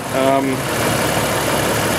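A 1988 Jeep XJ with the 4.0 engine idles steadily nearby, a continuous even rumble after the repair of an engine knock, with someone talking over it at first.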